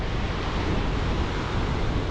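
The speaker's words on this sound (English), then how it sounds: "Look at these waves coming into the bay right now folks." Big storm waves surge into a Scottish bay during Storm Ashley, a dense, loud, unbroken roar of surf mixed with strong wind rumbling against the microphone.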